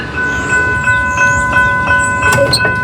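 A Brightline train passes a railroad crossing in Delray Beach, a loud close rumble of rolling wagons with crossing bells ringing steadily and a short horn blast near the end.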